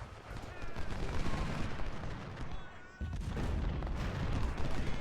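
Steady volleys of cannon and musket fire pound a gun battery in the Civil War strategy game Ultimate General, a dense rolling roar that barely pauses for five seconds.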